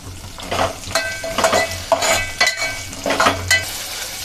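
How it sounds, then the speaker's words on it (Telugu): Sesame seeds and chillies fry in a pan with a steady sizzle, broken by repeated scraping stirs at a regular rhythm, close and alone. "నువ్వులు మిరపకాయలు వేగిపోయినాయండి"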